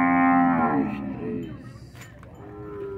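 Cattle at a livestock fair in Cipó, Bahia, low close moos from cows with calves, one loud drawn-out call fading into a softer second low.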